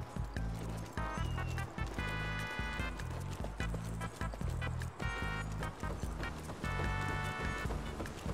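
Rhythmic hoofbeats of a galloping horse in the video game Evil West, steady clip-clop pulses repeating close up over a dense, loud game soundtrack and effects, with no talk.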